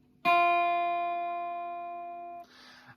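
A single plucked guitar note, F, rings out clearly and decays slowly over two seconds, then is muffled with a brief scratchy damping sound.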